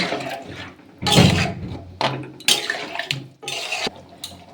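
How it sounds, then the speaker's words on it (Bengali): Water used to rinse a mixer jar poured into a pan of potato curry (aloo dum), then stirred, heard as several close splashy bursts of pouring and sloshing separated by quieter stirring and pan clatter. "আর এই মিক্সি ধুয়ে আমি জলটা দিয়ে দেবো দিয়ে আবারও নাড়াচাড়া করব"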